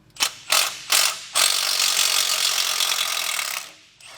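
A ratchet wrench turns out a 10mm brake line bolt on a 4WD Ford F-150 during a drop kit install, with four quick clicking strokes followed by a longer continuous ratcheting run, close and loud with no voices.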